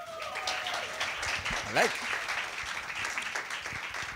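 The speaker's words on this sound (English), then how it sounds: "You're clapping on that side of the screen." Audience clapping at a business incubator showcase, a sustained round of applause with a presenter's voice speaking briefly over it.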